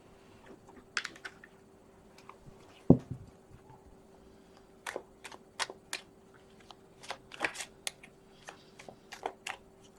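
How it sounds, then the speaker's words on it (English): Tarot cards are handled and shuffled at close range in short, crisp bursts of riffling and flicking, with one sharper tap, and no voice is heard. "So we're going to pull some cards and see if we can figure out"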